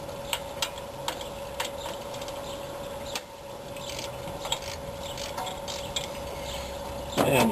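A ratchet with a 9/16 socket loosens a bolt on a 1965 Ford Mustang GT's engine during water pump work, giving sparse, faint clicks over a steady hum and a louder burst of rattling at the end.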